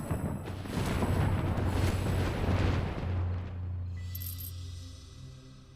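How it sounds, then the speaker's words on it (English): Explosions in the video game Masters of Albion: a dense, loud rumbling roar of blasts and crackling debris that slowly thins out and fades, leaving a softer tonal hum at the close. "Shit's just exploding."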